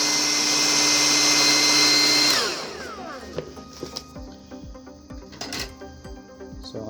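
Twin fans salvaged from a broken hair dryer, rigged as a solder fume extractor, roar loudly at max power for about two seconds, then wind down, leaving faint clicks and handling noises.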